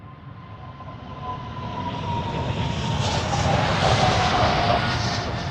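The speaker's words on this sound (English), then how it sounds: "but this is the United flight." United Airlines jet at Amsterdam Schiphol, a broad engine roar that swells steadily louder as the plane draws closer, with a faint whine riding on top and no voices.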